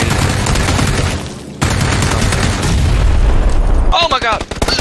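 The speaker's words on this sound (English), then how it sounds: "Grenade." A grenade goes off in PUBG, a heavy booming blast with rumbling gunfire-like bursts filling most of the moment, then fading into a brief high whine; loud and close under the noise.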